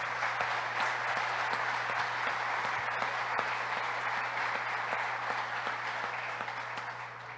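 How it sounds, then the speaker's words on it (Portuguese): Steady, dense applause from a church audience fills the space, holding at an even level throughout and tapering slightly toward the end, with no voices over it. "Pode aplaudir, Jesus."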